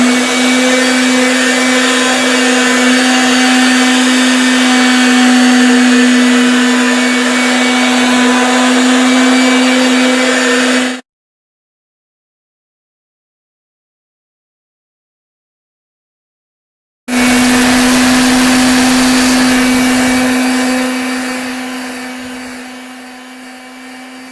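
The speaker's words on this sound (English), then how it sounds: "And on this sander, I have 320 grit sandpaper" Sander fitted with 320 grit sandpaper runs with a steady, loud motor whine in a woodturning shop, stopping for several seconds of silence before starting up again and then tapering off.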